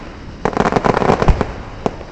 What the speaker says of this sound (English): It's like seeing fireworks.